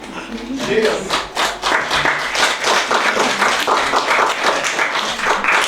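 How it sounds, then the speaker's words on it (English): An audience at a poetry writing session applauds after a spoken poem, with dense, continuous clapping that stays loud and close from start to finish. "Give you a round of applause."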